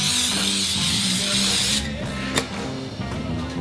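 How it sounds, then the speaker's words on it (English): Non-stick cooking spray hisses onto a muffin pan in one steady, close, loud burst of about two seconds, then cuts off, followed by a brief click. "We're gonna lay down some non-stick spray."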